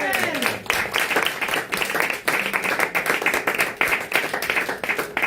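A church congregation claps steadily and rhythmically to acclaim Jesus, a dense, continuous clatter of many hands, with voices mixed underneath.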